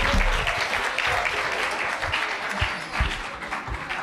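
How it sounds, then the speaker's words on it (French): An audience at a French conference on adapted physical activity applauds, a dense, sustained patter of many hands clapping that stays steady and fairly loud for several seconds. "vous pouvez vous applaudir"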